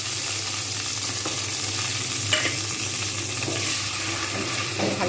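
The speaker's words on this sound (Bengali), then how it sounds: "প্রথমে আমি চিংড়িটাকে ভেজে তুলে রাখবো।" Prawns fry in hot white oil in a pan, giving a steady close sizzle and crackle that holds throughout with occasional stirring sounds and no talk.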